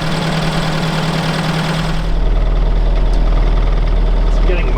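A UAZ 469 engine running cold on choke on a cold evening, a loud steady close idle with a low rumbling drone that shifts to a deeper, fuller tone partway through, no one talking.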